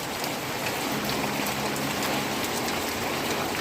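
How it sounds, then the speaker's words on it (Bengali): Steady rain falls on an afternoon, a dense, even wash of drops hitting surfaces close by with no let-up and no voices. "কীরকম বৃষ্টি হচ্ছে,"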